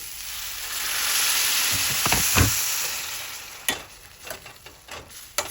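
Water poured into a pan of frying onion and tomato paste: a hissing surge builds and peaks midway, then sharp clicks and scrapes follow as the sizzle settles down.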